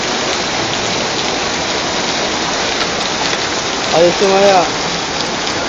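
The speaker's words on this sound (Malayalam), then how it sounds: "മഴ ഭയങ്കരായി" Heavy rain pours steadily in a continuous dense hiss, with a brief voice murmuring near the end.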